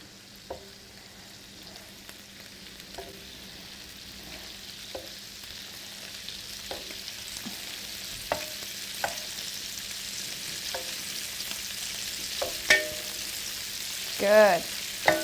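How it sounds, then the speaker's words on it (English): Bacon frying in a pan, a quiet, even sizzle with intermittent pops and crackles and a few utensil scrapes, close and growing slightly louder toward the end. "so that's bacon's cooking lovely"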